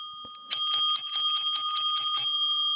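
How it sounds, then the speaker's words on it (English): A bicycle bell rings rapidly about nine times in a quick, even burst. It is bright and close, with a faint click just before it starts. "Oh, the bell. The bell is back."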